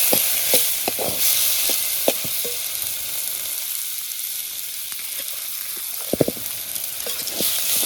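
Potatoes frying in a pan at a jungle campsite at night in the Konkan: a constant bright, close sizzle with occasional soft knocks and scrapes of stirring, a quieter stretch in the middle, then louder clinks.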